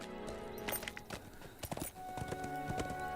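Horse hooves clip-clopping in the online game Lord of the Rings Online, a steady run of hoof beats over layered game music and ambient effects, with a brief whinny-like texture.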